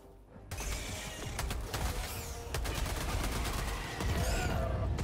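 Mortar strikes pound the ground in Helldivers 2, a dense, continuous barrage of loud booms and crackling gunfire with metallic rattles, close and chaotic, without clear talk.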